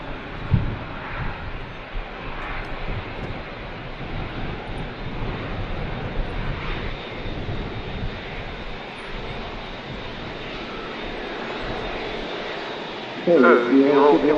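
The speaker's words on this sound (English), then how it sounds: "The Emirates A38 is going to taxi right past us here at the runway visitor park." An Emirates A380 airliner taxiing past the runway visitor park at Manchester Airport in strong winds, a loud continuous engine roar with wind buffeting and someone talking over it.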